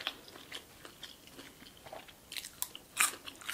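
Crispy Korean fried chicken being bitten, with a few quiet crunchy bites scattered through the clip and a sharper, louder crunch near the end. No one speaks.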